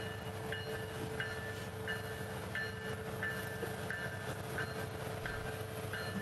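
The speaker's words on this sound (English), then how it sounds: "I think it's just a train." A passing train led by a 1989 Rio Grande heritage unit locomotive rumbles steadily nearby, with regular clickety-clack of wheels over rail joints at roughly half-second intervals and no talk over it.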